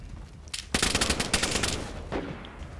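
A quick volley of gunshots in the video game DayZ on PlayStation 4 Pro rattles out in a dense burst, then a single shot follows, over a steady background hiss.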